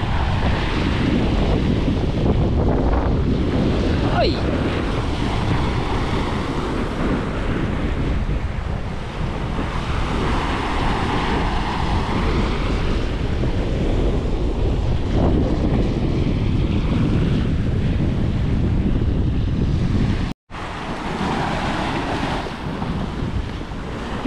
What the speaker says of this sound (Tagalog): Basta ng hangin, ng amihan.